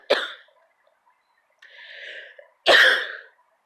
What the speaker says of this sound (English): here comes a coughing fit.